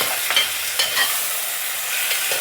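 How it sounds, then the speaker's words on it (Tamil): Chopped onion and large cut tomatoes sauté in a pan with a steady sizzle, broken by a few brief stirring scrapes, close and without talk. "அதையும் நல்லா சேர்த்துட்டு நல்லா வதக்கிறணும்"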